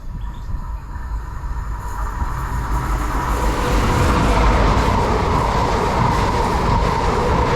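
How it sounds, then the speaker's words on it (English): An HST high-speed train, Bristol Temple Meads to Penzance, rushes through a station in Devon with a loud, building roar and rhythmic wheel noise that swells and holds close by. "I think we've got a HST due"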